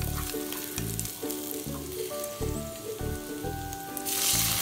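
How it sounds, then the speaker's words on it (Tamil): Green chilies, ginger and garlic sizzle and crackle in hot oil, with steady spitting bursts and a louder flare near the end, no talking. "இரண்டு பச்சை மிளகாயும் இஞ்சி பூண்டும் போட்டு வடக்கணும்."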